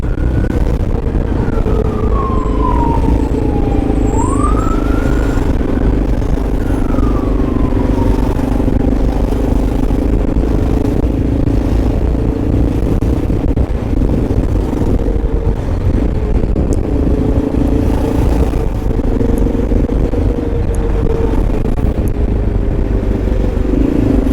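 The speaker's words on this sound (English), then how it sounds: "There's a police vehicle coming up on the shoulder there." A police vehicle siren wails and rises and falls as it approaches along a city road shoulder in Queens, New York, heard over loud, steady motorcycle engine and wind noise.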